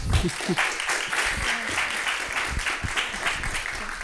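Audience applause fills an awards ceremony at the BID-FEMSA prizes, a steady, dense wash of many hands clapping that carries on without a break, with faint voices mixed into the crowd.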